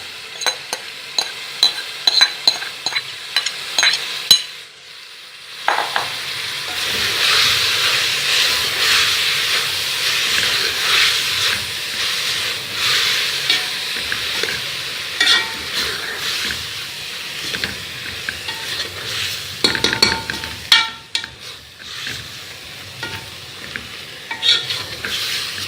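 Minced meat and spices being stir-fried with fresh spinach for shola khichdi, a loud hissing sizzle with bursts of steam and clattering scrapes as the pan is stirred, cut by a brief pause partway through.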